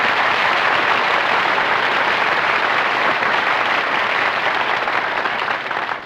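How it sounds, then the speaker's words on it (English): Sustained applause from restaurant waiters, a steady wash of many hands clapping at even loudness for several seconds, tapering slightly at the end. "Who's applauding you? The waiters."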